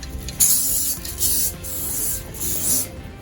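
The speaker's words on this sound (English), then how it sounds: "So I'm really just spraying in the places that the kids come through." Several short hissing bursts of aerosol spray, each lasting about half a second with brief gaps, close by and fairly loud.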